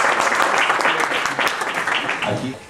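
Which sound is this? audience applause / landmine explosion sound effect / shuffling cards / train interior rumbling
audience applause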